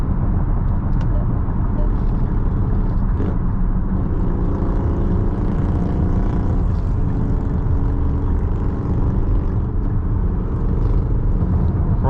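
A 2024 Nissan Pathfinder accelerates from inside the cabin, its engine and road noise rising in a steady drone with smooth shifts and no speech.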